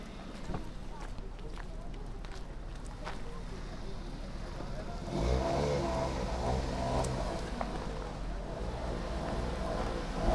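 A car pulling out of a snowy parking spot during March snowfall in Dalhousie, Himachal Pradesh, its engine rumble swelling midway amid steady wind noise, with voices talking over it.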